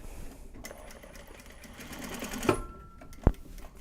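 Sewing machine stitching upcycled Japanese obi fabric, a short close burst of rapid needle chatter that fades out, followed by a sharp click.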